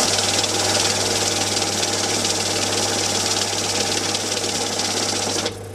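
An MC2200UV banknote counting machine runs with a loud, steady mechanical whirr and flutter that holds constant for about five seconds, then cuts off abruptly as the motor stops.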